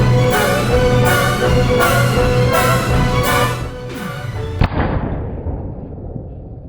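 Loud bursts of gunfire in a video game crack out in a rapid, evenly spaced series, ending in one sharp final shot followed by a fading echo.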